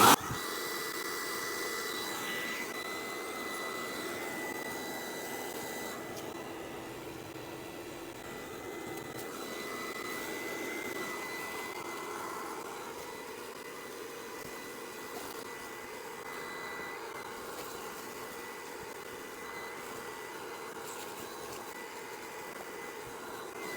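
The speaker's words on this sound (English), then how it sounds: "we're just going to give it the once over with the vacuum" A vacuum cleaner drones steadily while cleaning out the cab of a 1983 Toyota pickup truck with the seat removed, a fairly faint, even whir with small shifts in tone as the nozzle moves.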